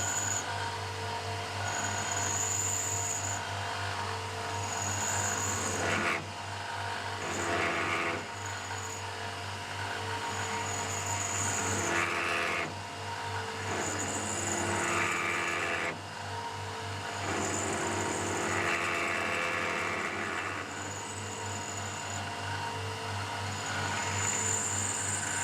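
A milling machine cuts 304 stainless steel for a thumb screw wrench, a steady motor hum with a continuous grinding cutter whine, changing as passes start and stop, fairly loud and constant with no speech.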